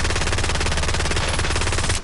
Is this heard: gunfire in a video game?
yes